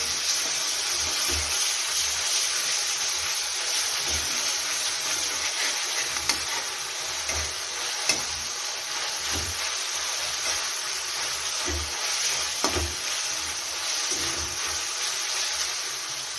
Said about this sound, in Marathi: एक मोठा चमचा अद्रक लसणाची पेस्ट टाकलेली आहे फिरवून घेऊया